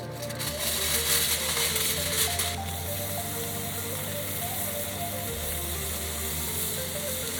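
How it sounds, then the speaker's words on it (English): Rice browns in butter and vegetable oil in a hot pan at an off-grid camp, a loud, steady sizzle and crackle that swells briefly near the start and then holds constant. "So we're putting a little butter in here because we're browning the rice now"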